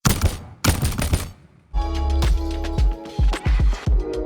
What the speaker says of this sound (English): So overall, the heavy cannon sounds like this.